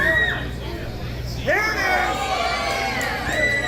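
A crowd at an independent wrestling event inside Simple Machine Brewing Company in Phoenix cheers and shouts steadily, with whoops and loud rising yells swelling about midway through, sustained under mixed voices.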